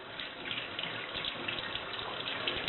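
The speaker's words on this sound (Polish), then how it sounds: "I wypełnić całkowicie wodą. Taką ciepłą z kokotka." Warm water running from a tap to fill a container in a kitchen while eggs are being washed, a steady close gushing splash with slight fluctuations throughout, no voices over it.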